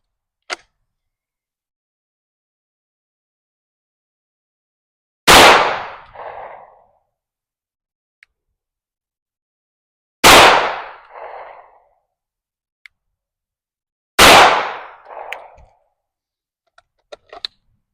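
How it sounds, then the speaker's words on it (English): Three loud, sharp pistol shots from a Ruger RXM and a Glock 19, fired at a slow, steady pace several seconds apart, each with a short echoing tail over an otherwise quiet range. "We're going to shoot a 5-round group at a slow, steady pace, see what we can compare between the RXM and the traditional Glock"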